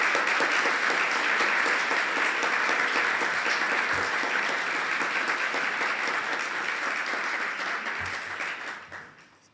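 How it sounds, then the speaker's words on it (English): Sustained applause from a large audience at a university honors convocation, a dense even roar of clapping that holds steady for several seconds before fading out at the end. "Let's just take a minute and have a round of applause for those great people."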